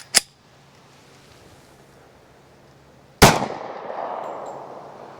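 A Glock 27 pistol fires PMC Bronze .40 S&W hollow point rounds, with two sharp, loud single reports about three seconds apart. The second report rings out into a longer decaying echo.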